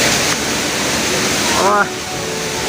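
Steady, loud rushing roar of a waterfall where friends have gone to swim, close and continuous, with a short burst of voice partway through.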